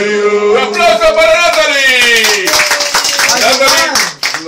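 Applause at a child's birthday party with clowns in New York, brisk clapping from a group mixed with loud, tonal voices of people calling out, close and continuous before a brief dip at the end.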